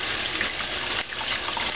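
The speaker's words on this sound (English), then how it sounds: "Okay, I'm gonna put some water in." Tap water runs steadily into a large canner pot, a close, constant rushing splash with no pauses.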